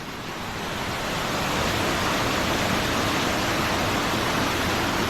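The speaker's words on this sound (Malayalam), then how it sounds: "ഒരു അടിപൊളി ഒരു കാട്ടരുവി ഒഴുകി വരുന്നേ" Forest stream running beside a rubber plantation path, a loud, steady, broadband rush of water with no pauses and no voices.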